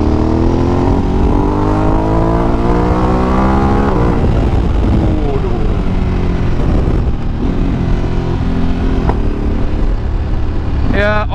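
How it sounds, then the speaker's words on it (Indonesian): A Ducati DesertX with a 937 cc engine accelerates through the gears, its loud close engine note climbing in pitch, dropping at shifts, then settling into a steady rumble, with the rider speaking over the engine. "Oke, kita coba narik ya."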